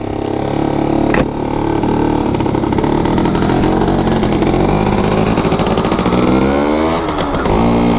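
A restored Yamaha Force 1 F1Z two-stroke motorcycle engine revs up close, the throttle blipped and held so the pitch climbs and falls repeatedly over a continuous loud idle, with no speech.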